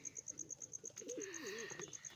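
A young pigeon kept as a pet coos softly in a short warbling phrase near its nest. A steady high-pitched chirping repeats in the background, and the sound is quiet overall.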